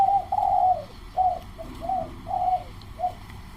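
Doves cooing in a repeated series of soft, rhythmic calls, close and fairly clear over a faint low background hum.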